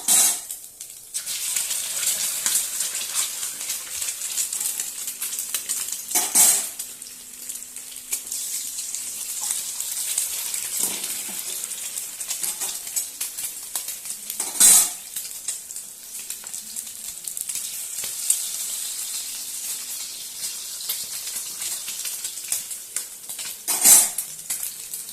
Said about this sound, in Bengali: কড়াইটা গরম হয়ে গেছে, প্রথমে ডিমগুলো ভেজে নেব